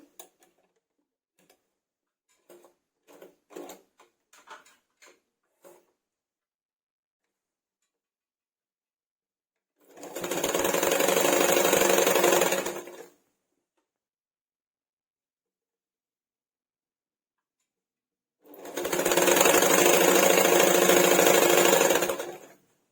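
A sewing machine stitches folded fabric for a bolster pillow cover in two steady buzzing runs of a few seconds each, preceded by light ticking handling sounds and silence between.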